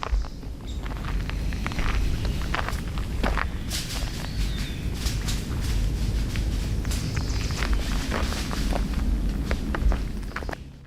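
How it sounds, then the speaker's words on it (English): Heavy, deliberate footsteps crunch through forest brush and undergrowth at night, a steady run of close, loud treads with rustling and snapping debris throughout. "Footsteps. Not his own, not the echo of boots on the trail, but heavy, deliberate movements in the brush off to his left."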